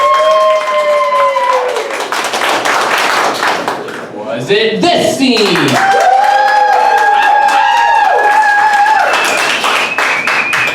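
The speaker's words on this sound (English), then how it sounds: "I'm going to take a poll by a round of applause what your favorite scene was" An improv theater audience clapping and cheering to vote for a favourite scene, bursts of applause alternating with a host's voice speaking over and between them.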